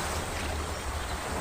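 Ocean waves washing onto a shore in Cebu, a steady broadband wash of surf with wind buffeting the microphone, continuous and fairly close throughout.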